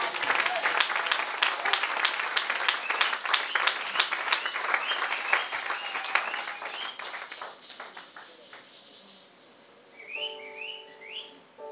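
Enthusiastic applause from a church congregation, with sustained clapping and shrill whistles for several seconds, then it fades to scattered whistles and a short tonal sound near the end.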